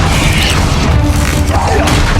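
Confringo fire spell explosions in the game Hogwarts Legacy, a dense, continuous roar of booming blasts and crashing impacts filling the whole moment, loud and close with no clear gaps.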